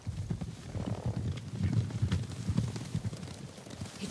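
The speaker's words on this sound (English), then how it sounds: "Horses, they're coming for us." Horses approach in the samurai video game Ghost of Tsushima, a dull rumble of hooves with low thuds under a windy outdoor ambience, moderately distant and building steadily.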